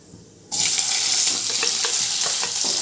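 Thinly sliced onion hits hot oil with spices, bursting into a loud, continuous sizzle right after a moment of near silence, with faint crackles throughout.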